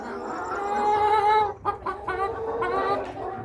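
A flock of chickens in a poultry coop cluck and squawk continuously, loud and close, with overlapping calls rising and falling and a short dip in the middle.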